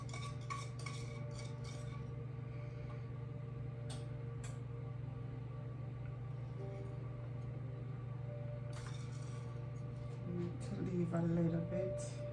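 A spoon clinks and scrapes against a pan while pineapple juice is stirred with sugar and butter to melt them. The sounds are faint, scattered taps over a steady kitchen hum, with a louder clatter near the end.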